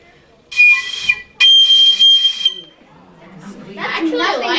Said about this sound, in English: What's the highest note on the The piccolo?